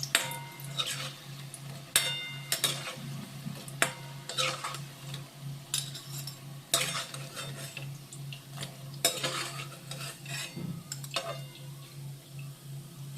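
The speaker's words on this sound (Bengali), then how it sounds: "আমি বেশ লাল লাল করে ভেজে নিলাম" Pumpkin fritters fry in hot oil with a soft, steady sizzle beneath repeated clinks and scrapes of a utensil against the pan, the clatter coming in irregular bursts close by.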